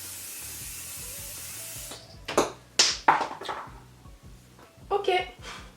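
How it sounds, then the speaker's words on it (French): A Kiko makeup setting spray hisses out in a long, steady mist at close range, followed by a few short bursts of handling, tapping and rubbing noises with someone speaking throughout. "Est-ce que je commence par me mettre un petit coup de spray fixateur?"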